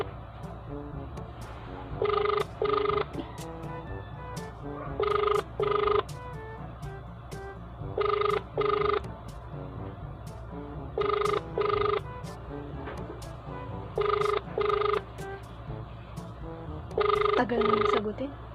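A phone's ringback tone sounds in regular paired bursts, roughly every three seconds, during an outgoing call, over a faint steady background hum.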